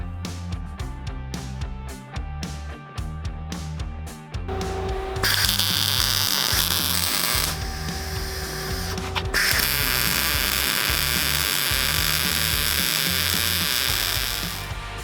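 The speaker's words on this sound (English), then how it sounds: "Grind the bevel onto the clamping ears and weld on both sides of the bottom plate." Grinder working a bevel onto steel clamping ears for a heavy-duty finger brake, a loud buzzing whine that starts and stops in short bursts before settling into a long continuous grind.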